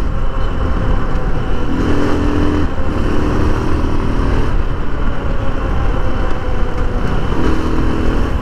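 Steady engine drone of a Teken Crossover 250 motorcycle being ridden through Kathmandu, Nepal, heading toward the Ring Road, a continuous mid-range rumble with light revving swells and road noise throughout.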